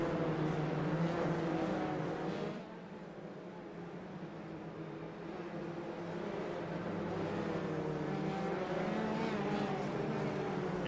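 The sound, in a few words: race cars driving behind safety car in iRacing video game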